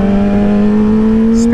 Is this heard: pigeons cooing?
no